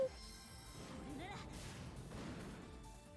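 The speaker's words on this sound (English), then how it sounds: "Explosion!" A spell explosion goes off in the video game Phantasy Star Online 2, a faint, broad rumbling crash with scattered impacts that carries through the whole moment.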